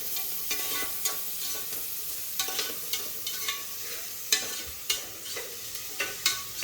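Onions frying in a pan for a toor dal vegetable pulao, with a steady sizzle broken by sharp scrapes and clinks of a spoon stirring through them, up close with no voices.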